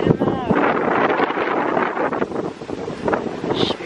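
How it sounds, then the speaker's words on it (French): Wind buffets a handheld camera microphone outdoors, a steady roaring rumble that runs loud throughout with brief gusty swells and a voice talking over it. "il y a un peu de vent, j'espère que ça ne me rendra pas trop à la caméra."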